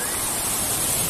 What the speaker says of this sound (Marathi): लाटा खूप जोरात येत आहेत